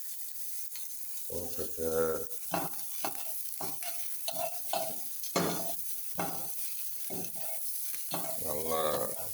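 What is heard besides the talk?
ginger garlic paste frying and stirred in a pan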